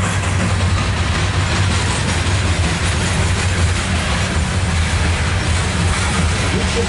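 A loaded CSX coal train, N7 with locomotive 6929, rumbles past close by as a steady, loud, continuous roar with a dense low drone and broadband rail noise that holds throughout, with no break.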